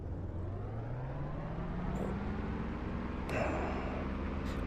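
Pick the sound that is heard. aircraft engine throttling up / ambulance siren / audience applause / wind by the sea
aircraft engine throttling up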